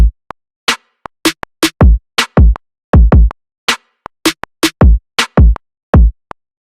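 Trap beat drum pattern with a heavy, deep kick, snappy snares and quick fills, punchy isolated hits in an uneven syncopated rhythm, loud and close with no other sounds.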